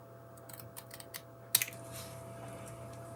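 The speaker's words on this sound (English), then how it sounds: "So let's just trim that off. And then trim the top off." Card stock being trimmed on a paper trimmer during card making: a few light ticks and taps, then one sharp cutting snap, followed by quiet shuffling.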